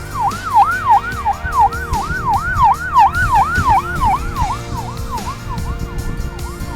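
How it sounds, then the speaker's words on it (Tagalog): An ambulance siren wails in a rapid, repeating rise-and-fall pattern, loud and close, over the rumble of passing traffic. "may ambulansya pa."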